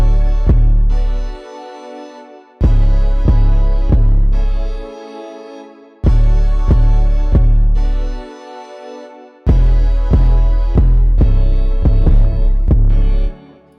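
A synth pad with a deep, booming 808 bass plays loud, sustained chords. Heavy bass notes hit in a repeating pattern with brief gaps where the low end drops out, and no voices are heard.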